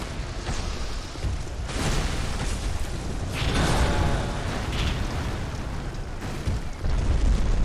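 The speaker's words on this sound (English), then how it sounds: "Second bombardment hits just beyond." Heavy bombardment explosions in the Dark Souls II video game roar loudly and continuously, with deep rumbling booms and bursts swelling one after another close by, with no talk over them.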